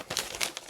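A plastic bag from a Lego set crinkles up close in quick, bright bursts over less than a second, with no voices.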